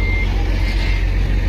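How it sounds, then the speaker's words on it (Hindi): A Mercedes-Benz water tanker truck reverses with steady, loud electronic beeps over a continuous low engine rumble and broad noise throughout. "ये है पानी का ट्रक, पानी का गाड़ी है भाई, पानी लेके जा रहा है"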